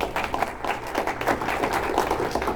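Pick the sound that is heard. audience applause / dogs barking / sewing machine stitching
audience applause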